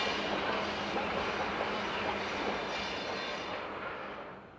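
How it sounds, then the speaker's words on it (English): A Grand Canyon Railway steam train working up steep grades and hairpin curves through Coconino Canyon, heard as a steady, dense rumble of rolling wagons that holds loud and slowly fades over the last second. "Despite its size and chugging steam and distinctive whistle, the train seems very much a friend to the national park's environment."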